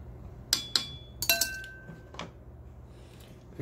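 Sambar being stirred in an electric pan, a spoon striking the metal with a few sharp clinks close by, grouped early and trailing off into quiet.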